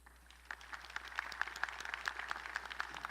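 Faint, distant applause rises in a large hall at a Lamar University College of Engineering commencement as faculty stand, with soft rhythmic claps over a low steady hum.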